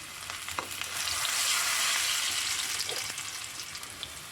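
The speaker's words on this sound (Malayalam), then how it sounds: "നമുക്കിത് ഉള്ളിയും കറിവേപ്പിലയും കൂടി താളിച്ചൊഴിക്കാം" Shallots and curry leaves crackling in hot oil for a tempering, a loud, dense sizzle swelling in the middle, with a few sharp pops and a spoon clink, no one speaking.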